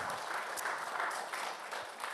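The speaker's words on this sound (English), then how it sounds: "I think that deserves another round of applause" Applause in a city council chamber, brief and steady, with many hands clapping at moderate volume and no voices over it.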